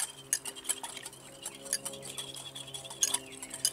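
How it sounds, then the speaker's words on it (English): Vegetables whisked in a bowl, a quiet run of light clinks and scrapes in an irregular, quick rhythm, close but faint, with no talking. "Give this a nice whisk."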